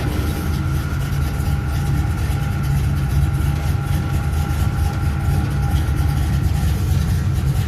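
A 355ci small-block V8 with a roller cam idles steadily and close, a continuous deep rumble with a faint whine above and no talking.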